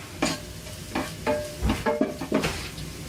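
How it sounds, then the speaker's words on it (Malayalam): Chilli powder sputtering in a very hot pan for Gobi Manchurian, a soft frying hiss marked by repeated spoon scrapes in an irregular rhythm, close and moderately loud. "പാൻ നല്ല ചൂടായതുകൊണ്ട് ഇട്ട വഴിക്ക് തന്നെ മുളക് പൊടിയൊക്കെ നന്നായിട്ട് മുരിഞ്ഞിട്ടുണ്ട്"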